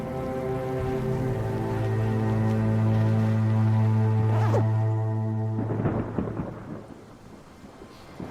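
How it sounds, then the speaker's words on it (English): Heavy rain and thunder rolling in over the Isle of Skye in Scotland: a loud, steady low rumble swelling and fading, then giving way to rushing rain hiss with scattered drops. "Here's the rain."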